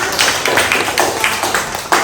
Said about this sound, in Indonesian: Tepuk tangan buat Tania.